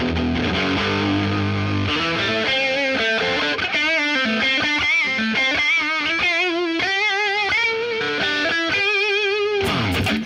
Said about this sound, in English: Let's put on some distortion and see what this thing sounds like